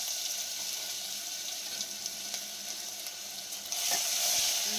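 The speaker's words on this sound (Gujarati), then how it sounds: "હવે આમાં આપણે લસણ આદુની પેસ્ટ નાખી દઈશું" Garlic ginger paste hits hot oil in a pan for dal tadka, giving a loud, steady, hissing sizzle that holds throughout and swells slightly near the end, with no voices over it.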